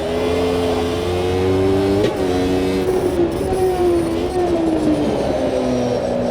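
Formula Classic Gen 2 race car engine in Automobilista 2 roaring loudly and close, pitch climbing in steps as it accelerates out of a corner, with a sharp gear change about two seconds in.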